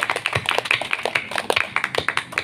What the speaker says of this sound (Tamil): இன்றைக்கு வழிபாட்டுக்கு உதவி செய்த அனைவருக்குமே கைத்தட்டி நாம் பாராட்டுகள் வாழ்த்துக்களை சிறப்பான தெரிவித்து மகிழ்வோம்